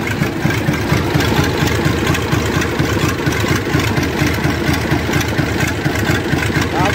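A Scania 111 truck engine runs loud and close with a steady, rough diesel idle, with some speech faintly mixed in.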